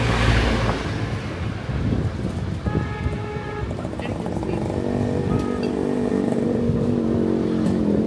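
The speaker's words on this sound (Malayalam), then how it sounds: "നല്ല കാറ്റുണ്ട് പക്ഷെ" Strong wind buffets the microphone on a Munnar-to-Kodaikanal road trip, a continuous loud roar with some rumble beneath.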